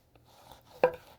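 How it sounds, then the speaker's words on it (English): A chef's knife slicing through food on a cutting board, one short, crisp cut standing out near the end amid faint kitchen handling noise. "That was a decent slice."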